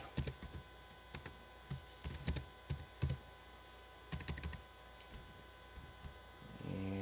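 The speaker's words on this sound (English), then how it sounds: "I'm going to type in I'm live." Typing on a computer keyboard, with irregular bursts of key clicks in clusters separated by short pauses, close and fairly quiet, with no talking.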